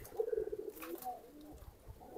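Domestic pigeons coo softly nearby, with a low rolling call followed by quieter coos over faint background noise.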